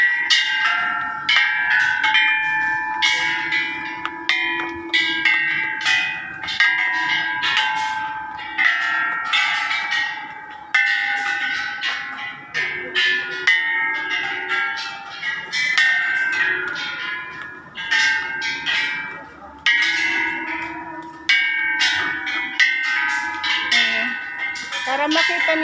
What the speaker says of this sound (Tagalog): Para makita nyo guys, puros bell.